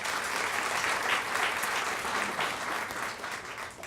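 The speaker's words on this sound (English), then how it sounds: "So give him a big round of applause." Steady applause from an audience at a freshman awards ceremony honoring a student, dense clapping that holds evenly and eases off slightly at the close, with no talking over it.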